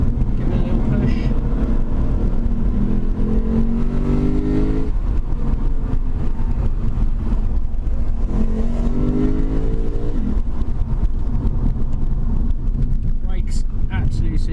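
A 2017 Lexus RC F accelerating hard on the road, its engine note climbing in two rising pushes over steady wind and road rumble.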